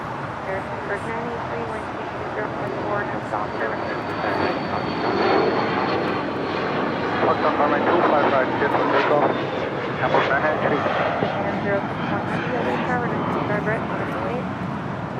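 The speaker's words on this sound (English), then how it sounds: "This Gulfstream G200 Galaxy is taking off to Livermore, California." Gulfstream G200 Galaxy business jet taking off at LAX, a rising jet engine roar that swells toward the middle and stays strong, with a voice talking over it.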